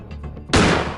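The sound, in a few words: gunshot in the video game Granny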